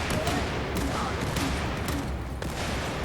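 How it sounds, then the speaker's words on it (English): Rapid video-game gunfire from a PDW fired from the hip during a team deathmatch in a shooter, a dense continuous burst of shots loud and close, with faint game background noise. "the PDW's hipfire saves me"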